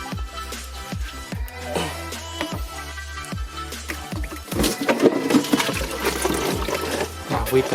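Clean water draining out of a BMW cooling system hose during a thermostat and coolant job, a close splashing, gurgling flow with rhythmic glugs that grows fuller and louder toward the end.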